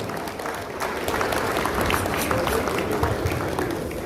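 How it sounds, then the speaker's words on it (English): Applause from a crowd at a convention launch in Benin City, Edo State, a steady wash of clapping of moderate loudness lasting several seconds without a break. "Give him a round of applause."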